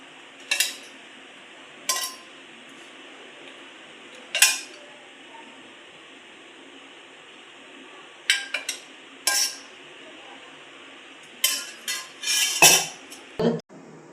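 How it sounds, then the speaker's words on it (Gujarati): Spoon clinking and scraping against a glass or pot while stirring a cold cocoa drink, in short separate bursts with quiet gaps, busier clatter near the end, no talking. "હલાવી લેશું આવી રીતે."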